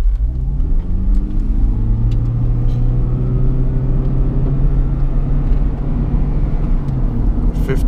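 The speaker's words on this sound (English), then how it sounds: "We'll give you an acceleration test right now." A 2014 Toyota Prius Plug-in hybrid accelerating hard from a standstill: a steady, rising engine drone with a smooth climbing whine builds continuously, loud and close from inside the cabin, with no talk.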